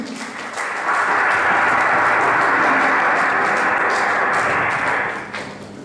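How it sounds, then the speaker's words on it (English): Audience applause at the Treble Award 2021 ceremony, many hands clapping in a dense roar that swells up quickly, holds steady for several seconds, then tapers off. "Please, a round of applause for him."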